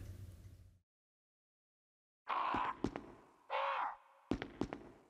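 Crows cawing in the Resident Evil HD Remaster video game, three loud harsh caws close by, each followed by sharp knocking thuds, after a brief stretch of silence.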